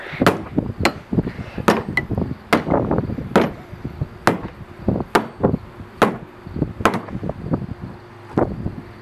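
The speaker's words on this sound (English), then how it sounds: "I found I had to find the best tool for that, so I found one. A hammer!" A hammer strikes screws on the underside of a tractor: sharp, irregular metallic whacks land close and loud, about twenty blows with short pauses and uneven rhythm, alone.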